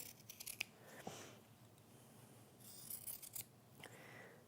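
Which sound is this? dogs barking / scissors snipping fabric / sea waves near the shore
scissors snipping fabric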